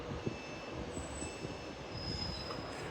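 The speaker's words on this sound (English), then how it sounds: "Also arriving in now is another Northern Trains 156 from Whitehaven." Northern Trains class 156 diesel unit arriving at Carlisle station, a steady rolling rumble of wheels on rail with faint high squeals, distant and quiet, no voices.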